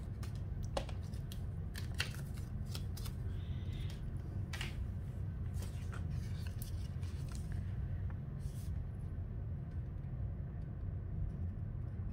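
Scissors snipping a folded paper rectangle for a scrapbook layout, a series of sharp, quick cuts scattered over a low rumbling background.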